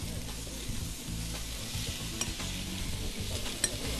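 Crushed whole garlic fries with bread dough in a hot pan, a dense steady sizzle with occasional stirring scrapes and light clicks of a utensil against the pan.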